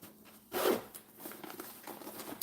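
A zipper on a messenger bag pocket is pulled in one quick, close zip, followed by quieter fabric rustling and handling.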